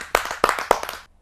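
An audience at a Hindi kavi sammelan poetry gathering claps in three or four sharp, close bursts of hand claps over about a second. The claps are clustered, then stop abruptly.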